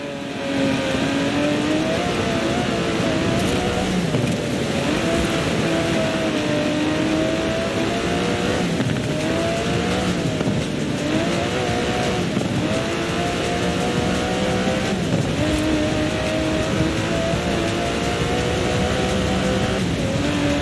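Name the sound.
V12 sports car engine, video game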